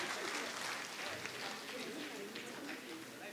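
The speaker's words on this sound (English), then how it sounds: "Ladies and gentlemen, a huge round of applause to Tulsi Ghimire." Audience applause at the 4th INAS International Nepali Film Award ceremony in Sikkim, a steady, dense clapping that fills the whole moment at moderate loudness.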